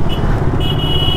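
Motorcycle ridden on a town road at peak hour, its engine a steady low rumble throughout with a faint high whine, close and loud, no talking.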